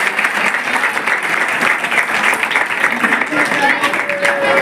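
An audience at a community gathering claps loudly for a student, a dense, continuous applause with crowd noise and voices mixed in.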